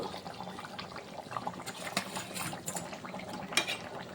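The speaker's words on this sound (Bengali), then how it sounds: "এখন আমি ভেজে রাখা মাছগুলো দিয়ে দেব" Fried tangra fish slide into a simmering cauliflower curry with cashew paste, giving a soft, continuous bubbling and sizzle close by, broken by light clinks of a pan and utensil.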